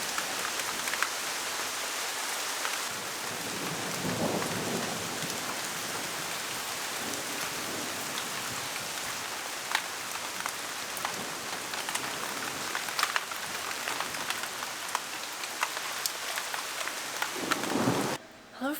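Heavy rain pours down over a backyard garden, a dense continuous hiss with scattered crackles of thunder rolling through, steady and fairly loud throughout with no voices.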